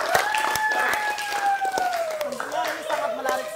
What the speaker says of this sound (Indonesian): terima kasih buat tepuk tangan buat kita semua.